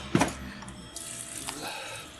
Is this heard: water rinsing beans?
yes